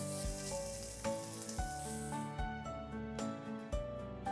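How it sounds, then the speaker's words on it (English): Rice for Mumbai street-style mushroom chopper fried rice sizzles as it is tossed in a pan on high flame, a quiet steady frying hiss under sustained tonal sounds, with no speech. "I'm going to add in the rice. Let's toss this lightly, of course on high flame."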